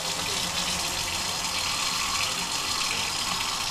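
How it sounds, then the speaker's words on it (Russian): Water gushes steadily from an automatic hand-washing tap in a public washroom in Denmark, a continuous close hiss of running flow that stays even throughout, with no talk. "Другая кнопочка, пошла вода."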